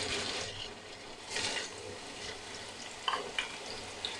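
Chopped onions hit hot oil for an achari chicken karahi, giving a steady close sizzle broken by bursts of stirring scrapes and a few sharp clinks against the pan.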